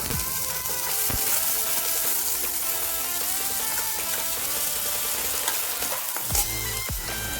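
Small cut potato pieces fry in mustard oil in a wok, with a loud continuous sizzle, crackling pops and the occasional scrape of a stirring spoon, close up and with no talk.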